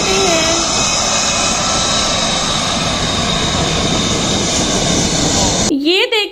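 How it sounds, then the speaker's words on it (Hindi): A fighter jet roars in a loud, sustained broadband rush, steady and close, with a brief higher whine near the start and an abrupt cut to a different sound at the end. "ये देखो बच्चों ये है फाइटर जेट।"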